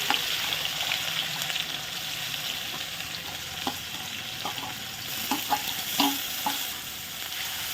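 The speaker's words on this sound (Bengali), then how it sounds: "অন্যদিকে কড়াইতে তেল দিয়ে দিলাম শুকনো লঙ্কা, দিয়ে দিলাম পেঁয়াজ কুচি," Dried red chillies, chopped onion and tomato frying in hot oil in a wok, a steady sizzle broken by scattered clinks and stirring scrapes, close and even, with no voices.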